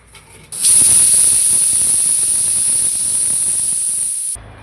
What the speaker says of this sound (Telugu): 6 విజిల్ అంటే చిన్న మంట మీద 6 విజిల్ పెడితే పోన్ గంట అయింది.